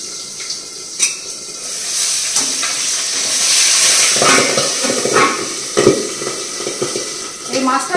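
Fish frying in a pan gives a steady hissing sizzle that swells and holds in the middle, broken by occasional clinks and knocks of utensils and dishes nearby.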